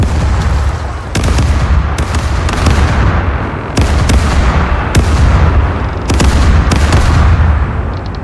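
Ship cannons boom in a naval bombardment in the video game Caribbean Legend, several loud blasts landing in an irregular sequence, each with a rumbling decay.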